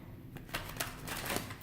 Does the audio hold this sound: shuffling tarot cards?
yes